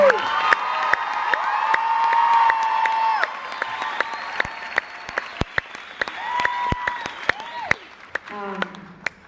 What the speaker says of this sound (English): A huge round of applause for Gabriel McNair.